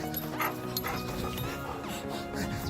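A dog barking and whimpering, with close yips and whines repeating throughout amid outdoor background noise.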